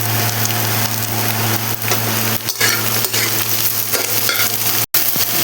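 Thinly sliced capsicum stir-fried with onion and spices for chicken chowmein hisses loudly and continuously in a pan, broken by scraping spatula strokes and one brief drop-out, close up.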